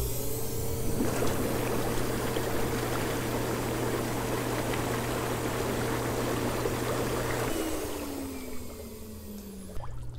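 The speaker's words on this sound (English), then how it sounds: "when you turn the air jets on, that's all it does. It just bubbles out of all the way around there." Air jets in an inflatable hot tub bubbling the water, a steady loud rushing fizz with a constant motor hum that winds down near the end.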